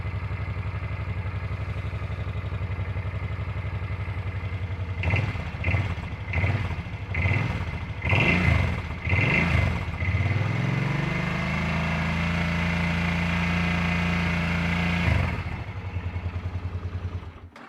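A motorcycle engine cranks with several rhythmic turnovers, then catches and settles into a steady idle that runs for a few seconds before shutting off.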